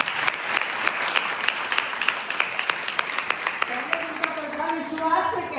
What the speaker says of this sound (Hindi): ताली बजाओ बहन के लिए।